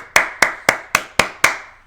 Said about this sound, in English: 10 years of just non-stop clapping